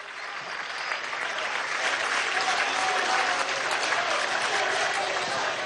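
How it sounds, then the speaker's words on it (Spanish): An audience breaks into steady, dense applause at a youth employment event, rising quickly and holding strong for several seconds. "Un aplauso a César"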